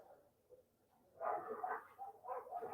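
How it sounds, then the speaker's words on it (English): Dogs fight at some distance, a muffled tangle of growls, yips and snarling barks rising in bursts over a low background hum, with no speech. "Sounds like a dog fight."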